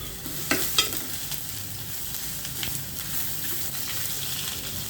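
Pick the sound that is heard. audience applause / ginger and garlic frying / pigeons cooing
ginger and garlic frying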